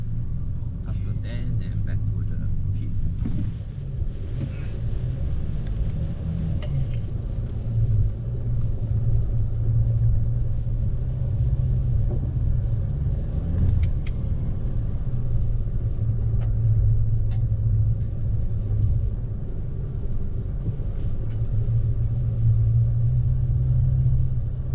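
A Ford Ranger Raptor with a 2.0L bi-turbo diesel engine drives along, giving a steady low rumbling drone heard from inside the cabin, with people talking over it now and then.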